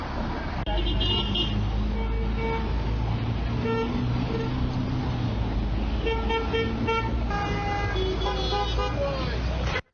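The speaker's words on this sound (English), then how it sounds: "Honk to support the writers, it says." Several car horns honk in support of striking writers over busy street traffic, short and long toots overlapping, with people talking nearby throughout.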